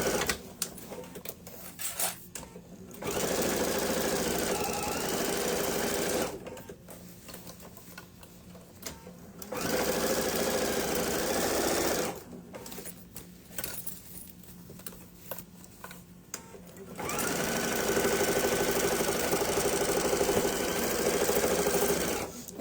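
A sewing machine backstitches the ends of backpack straps at the hardware tabs, running in several sustained whirring bursts separated by short pauses filled with small handling clicks.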